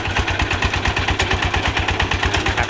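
A Kubota KRT140 walking tractor's single engine runs steadily close by, a loud, even low thumping beat with a clattering mechanical overtone and no talk over it.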